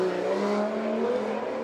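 A drift car launches down the track at a Formula Drift knockout qualifying in light rain, its engine a loud, steady, slightly rising roar heard close for a short burst.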